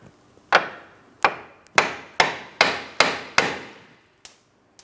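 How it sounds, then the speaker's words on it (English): A hammer taps the steering knuckle of a 2004-2008 Pontiac Grand Prix to free a lower control arm ball joint stud: about seven sharp, ringing metal strikes in a steady rhythm, close and loud, then a lighter final tap. "Now with my hammer, I'm going to be tapping on my steering knuckle where my ball joint stud is."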